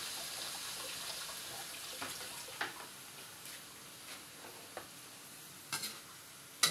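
A low steady sizzle of vegetables and pork frying after a little water is added, with occasional clinks and scrapes of stirring, quiet and without talk.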